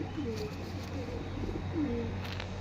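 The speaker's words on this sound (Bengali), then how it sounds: "এগুলো ধাড়ি পায়রা, জালঘরের ভিতরেও ক্যাচ করে রেখেছে দাদা।" Adult pigeons in a netted loft in Howrah coo softly in a few short, low calls, fairly close, over a steady background hum.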